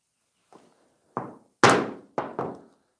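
A pricking iron is struck into leather to mark stitch lines for a saddle-stitched key wallet, giving five sharp, hollow thunks at uneven intervals, each louder than the last, close and alone.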